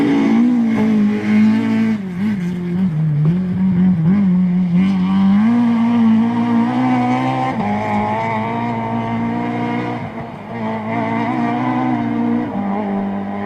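A white Ford Escort rally car engine drones steadily with harmonic whine on a stage of the Argyll Rally, shifting pitch as it passes close by, loud throughout with a brief dip near the end.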